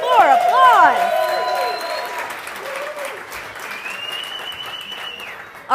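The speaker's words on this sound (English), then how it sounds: "Can we get this guy some more applause?" A TV studio audience applauds a show guest named Nick, opening with whooping cheers over loud clapping that then settles into a steady, slowly fading round of applause.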